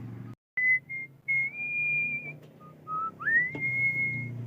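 A person whistles a wavering, sustained tune in several phrases with brief gaps while opening a Sakura AV-733 amplifier. A low hum runs underneath and there is no talk.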